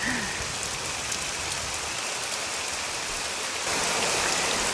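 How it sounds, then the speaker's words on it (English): Rain falls steadily in the survival video game SCUM, a dense, constant patter and wash of drops on surfaces, evenly loud throughout and swelling slightly toward the end. "I'm gonna wait a little bit until the rain stops."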